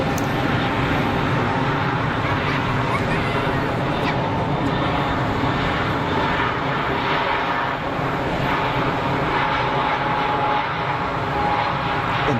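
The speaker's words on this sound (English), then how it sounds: "The Dreamliner departing." A Qatar Airways Boeing 787 Dreamliner departs Geneva Airport with a sustained, loud, even roar of engine noise that holds steady throughout, no voices over it.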